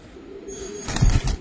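Giribaz pigeons cooing nearby: a couple of low, throaty coos near the end after a quiet stretch.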